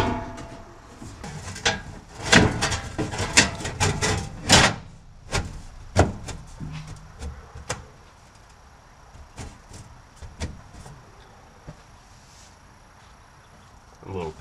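A new sheet-metal trunk floor pan for a 1969 Plymouth Valiant is set into place, with a series of clanks, knocks and scraping thuds, then quieter handling sounds and sparse taps.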